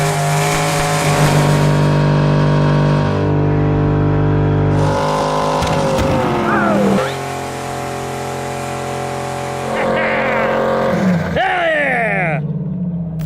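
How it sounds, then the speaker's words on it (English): Ken Block's Ford Mustang Foxbody doing a burnout, its engine held at loud, steady high revs with sharp rises and falls in pitch and screeching tires, continuous and close. "we had Ken do a celebratory burnout until the tires pop"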